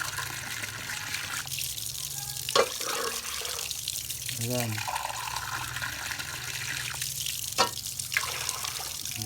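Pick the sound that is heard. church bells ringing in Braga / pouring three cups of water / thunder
pouring three cups of water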